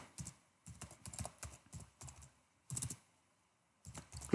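Fingers type a web address on a computer keyboard in quick, close bursts of light clicking keystrokes with short pauses, ending in one louder key press.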